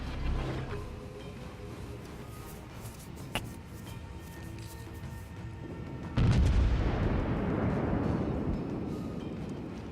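Naval gunfire from the cruiser HMS Belfast in a video game: mechanical clanks and creaks, then one heavy, loud boom that rolls into a long, slowly fading rumble.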